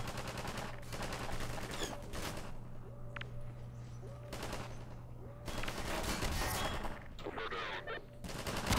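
Gunfire in Half-Life 2: dense bursts of automatic fire and shots arrive in several loud clusters from multiple directions, with short lulls between them.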